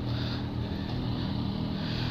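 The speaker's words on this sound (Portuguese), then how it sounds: "Trocamos de moto aí, tô com a MT-09 dele." Yamaha MT-09 motorcycle being ridden, a steady, loud engine drone with strong low rumble and wind rush that holds constant throughout.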